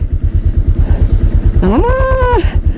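A motorcycle engine chugs at a loud, rhythmic idle on a snowy mountain road, then revs up in a rising whine that holds briefly and drops back.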